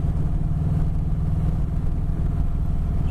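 Engine of a 2020 Harley-Davidson Sport Glide motorcycle pulling hard from around 37 mph, a steady low rumble with wind noise that holds level throughout the ride.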